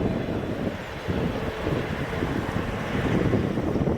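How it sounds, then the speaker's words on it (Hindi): Strong, cold wind gusts steadily across the microphone outdoors at a wetland with egrets and migratory ducks, a loud continuous rumbling roar with no pauses. "आज हवा तेज़ चल रही है और ठंडी हवा चल रही है।"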